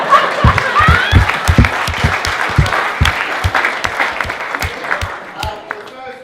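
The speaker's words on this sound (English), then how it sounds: "just a big round of applause for Brett" Wedding guests applauding at a reception speech, a burst of many hands clapping with loud individual claps up front, slowly thinning and fading out, with voices murmuring underneath.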